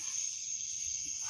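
Crickets chirping in the background at night, a steady high-pitched continuous trill that stays even and moderately faint throughout.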